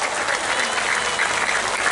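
Audience at a haul religious gathering in Madiun claps together in a brief, even burst of applause, fairly close and continuous, with no voices over it.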